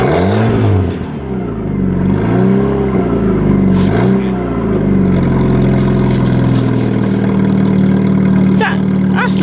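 Fiat Panda fitted with an Abarth Monza exhaust revving hard close by, loud rising and falling sweeps over a steady idle, with people talking around it.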